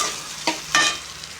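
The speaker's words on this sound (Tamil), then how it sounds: "எல்லாத்தையும் போட்டு நல்லா ஃப்ரை பண்ணிக்கலாம்" Onion, ten garlic cloves, two pieces of ginger and five dried red chillies fry together in a pan. A short stretch of close sizzling is broken by two quick stirring scrapes.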